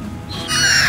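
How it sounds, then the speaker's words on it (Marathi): A crow caws loudly and close by on a beach in Dubai, a single drawn-out harsh call rising over steady background surf and ambient noise. "कावळा आहे तो, कावळा"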